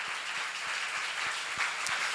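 A church seminar audience applauding, a dense steady wash of clapping that holds at an even level throughout.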